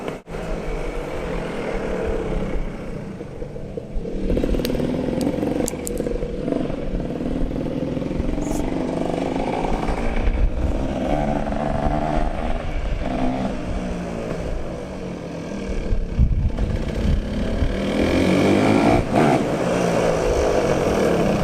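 A Honda 250R three-wheeler's engine buzzes and revs continuously during a ride, its pitch rising and falling with throttle changes, close and fairly loud with some rattling clatter.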